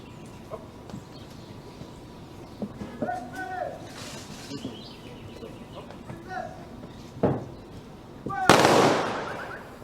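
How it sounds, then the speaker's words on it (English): A 21-gun salute at a ceremony: a few sharp reports ring out across an open-air setting, the last and loudest bang near the end, with birds clucking and chirping in the background. "Kindly remain standing for the 21 gun salute."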